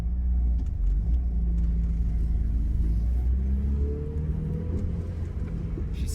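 A 1993 Eagle Talon AWD turbo with a freshly rebuilt transmission drives along, its engine a steady low rumble with a mild rise in revs, heard from inside the car without talk.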